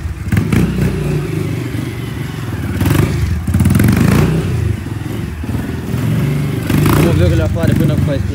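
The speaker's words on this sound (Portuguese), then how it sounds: "Ele não tá ouvindo que a moto tá muito barulho." A motorcycle engine revs repeatedly in loud surges, close by, with clattering thumps and people talking underneath; the engine is fuel-injected.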